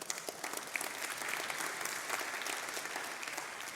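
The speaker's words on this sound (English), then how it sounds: "Yeah, you can clap." Steady applause from a church congregation fills the space, dense and continuous for several seconds with no speech over it.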